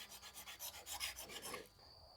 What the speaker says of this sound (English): maybe I'll just use my diamond sharpener on this side